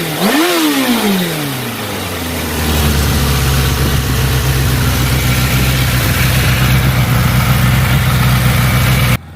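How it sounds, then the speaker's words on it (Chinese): A 1989 Suzuki GSX-R750 RK with its air/oil-cooled 749cc engine is revved once and then settles into a steady, throbbing idle, loud and close, with no talking. "我们听一下这代发动机声浪"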